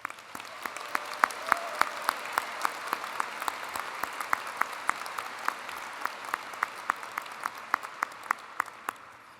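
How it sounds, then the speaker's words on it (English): A commencement audience gives a steady round of applause, many hands clapping together in a dense, even patter that carries on throughout with sharp individual claps standing out. "Can we get them a quick round of applause?"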